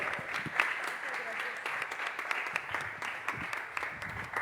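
An audience at a Spanish-language book presentation applauds, a continuous patter of clapping with sharper individual claps standing out, blended with murmuring voices in the room.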